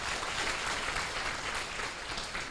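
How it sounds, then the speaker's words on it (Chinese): An audience at a Taiwanese officials' preparatory meeting claps for the council speaker in a dense, steady round of applause that holds at an even level for the whole stretch. "啊，我们再给议长掌声鼓励一下"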